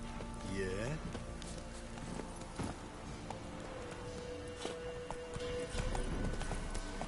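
Geralt's horse Roach in The Witcher 3 gallops with steady hoofbeats and an occasional whinny, layered under game music, ambient effects and a voice.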